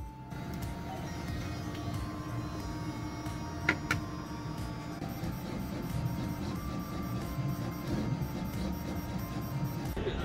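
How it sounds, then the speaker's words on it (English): Lab plate reader machine processing a 96-well plate, giving a steady mechanical hum with faint ticks and one sharp click near the middle, continuous and fairly quiet throughout. "And here I'm using this really fancy plate reader that I've never seen before"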